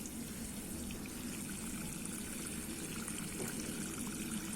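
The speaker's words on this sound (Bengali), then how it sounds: "আরও এটাকে জল দিয়ে পরিষ্কার করে দেওয়া হবে।" Water is poured over the soil of a freshly potted rose topped with cinder. It makes a steady, unbroken splashing trickle that stays close and even throughout, with no voices.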